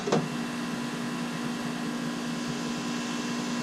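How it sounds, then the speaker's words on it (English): An air conditioner runs with a constant, even whir and faint tonal hum, and a brief click right at the start. "I hope you can hear me over the air conditioner"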